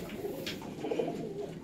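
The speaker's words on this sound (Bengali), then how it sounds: "এবার একটা টিপলার পায়রা শখ করাবো," Tippler pigeons give a short burst of low, throaty cooing up close, a couple of rolling coos over a soft background hiss.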